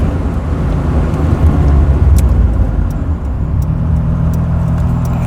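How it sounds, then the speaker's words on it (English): Suzuki Alto Works engine idling high, a steady close rumbling drone with a faint whine above it and a few small clicks. "Yeah, really high idle again."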